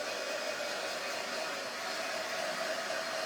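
A heat drying tool blows hot air in a steady, continuous whoosh with a faint motor whine, held close and unchanging throughout.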